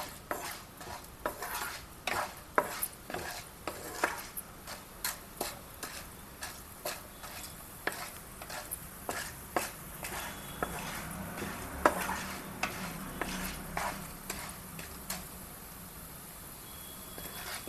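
Stuffed brinjal curry ingredients stirred and fried in a pan until they start to colour, with a steady low sizzle under repeated scraping and clinking strokes of a spatula against metal, close and moderately loud, no talking.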